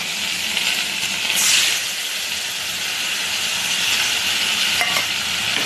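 Potatoes and spices sizzling and frying in a pan for a spicy fish curry, a steady close hiss with a brief louder surge of steam partway through and occasional stirring scrapes, with no talking.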